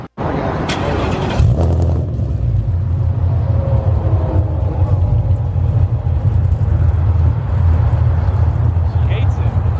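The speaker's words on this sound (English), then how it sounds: "we're just gonna start up the car and let it run for a second" A 650whp Ford Mustang starts up and settles into a loud, deep, steady idle rumble that fills the close-range recording.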